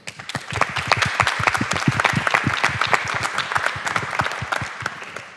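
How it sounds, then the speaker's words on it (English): A large audience at an evening BK Talks panel event claps in a dense, sustained burst of applause, steady throughout without talk. "let's give this panel a big round of applause"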